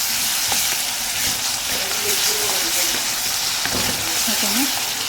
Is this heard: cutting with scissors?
no